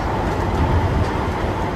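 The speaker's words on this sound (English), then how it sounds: "This is Central Line going to Liverpool Street." A London Underground Central Line tube train rumbles at steady volume, a dense, loud roar of wheels and motor with no distinct breaks and no voices.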